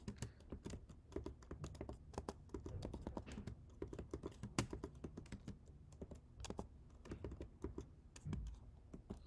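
Typing on a computer keyboard: a steady run of quick, uneven key clicks and taps, close and quiet, with occasional louder strokes and short pauses, no voices.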